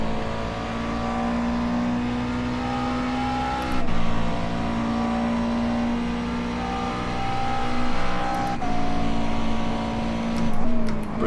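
A McLaren race car engine in the iRacing game screams at full throttle, with its pitch climbing through the gears. Brief dips between shifts mark the upchanges, and it sounds loud and continuous with no speech.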